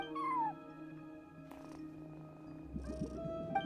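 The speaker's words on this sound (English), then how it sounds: "a cat watching over the front desk" A cat meows at a front desk in the game Genshin Impact, with a short high meow at the start followed by a low purring, chirping murmur over a steady tonal background hum.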